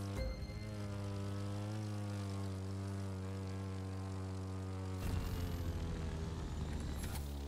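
Propeller plane engine in The Crew 2 racing game, a steady loud droning hum with strong harmonic tones held throughout, shifting slightly in pitch near the end as the engine note changes.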